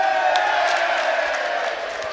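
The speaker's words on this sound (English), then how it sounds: "biggest cheer of the day, that" A football crowd at a Darlington match roars in a broad, sustained cheer that fills the stadium, steady and loud before easing slightly at the end.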